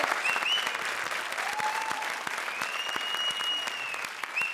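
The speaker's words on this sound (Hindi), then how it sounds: "जोरदार तालियां वीआईपी और सूरज के लिए" Studio audience applause for performers on a TV comedy show, a steady crowd of clapping hands with faint whistles and musical tones ringing over it.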